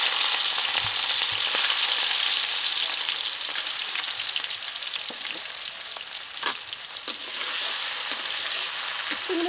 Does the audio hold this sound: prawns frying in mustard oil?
yes